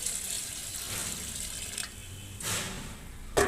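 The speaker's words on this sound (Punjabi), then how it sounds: "ਇਹ ਪਾਣੀ ਲੈ ਕੇ ਆਏ ਆ ਠੰਡਾ ਬਰਫ਼ ਵਾਲਾ ਪਾਣੀ, ਇਹਦੇ ਵਿੱਚ ਪਾਵਾਂਗੇ।" Cold ice water is poured into Kashmiri tea in a pot, a soft splashing pour with a few short gushes and a brief louder splash at the end, faint and alone.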